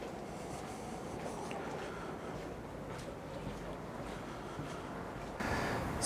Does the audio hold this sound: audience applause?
no